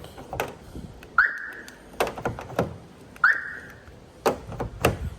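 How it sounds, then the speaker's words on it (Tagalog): Vehicle anti-theft alarm on a car for sale, sounding in sharp chirps with rising whistling tones repeated in a pattern, loud and close, no talking over it. "May anti-theft alarm."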